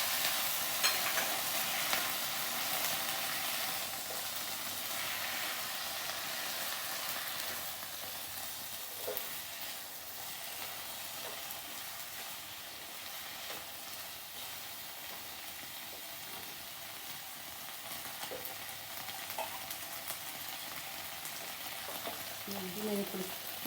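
Cubes of paneer sizzling and frying in a pan as soy sauce goes in, a steady close crackling hiss throughout with occasional faint clinks and stirring.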